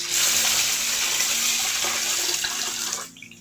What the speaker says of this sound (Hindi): अब हम इसमें कोकोनट मिल्क ऐड करेंगे